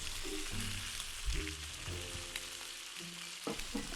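Toy barbecue fish cooking, a soft crackling sizzle with small clicks and taps of play food being handled, close and fairly quiet.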